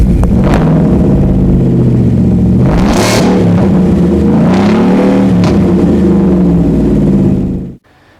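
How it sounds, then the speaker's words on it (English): A 2019 Ford F-150 with a 5.0 liter V8 and MBRP side-exit exhaust revs loudly up close, several throttle blips rising and falling over a rumbling idle before cutting off abruptly. "I'm going to go ahead and give you a little sound clip exactly what this exhaust sounds like."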